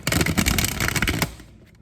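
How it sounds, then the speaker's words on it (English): A deck of tarot cards is shuffled in a dense, rapid riffle of papery flutters and slaps for just over a second, loud and close, then trailing off into quiet. "let's shuffle these cards"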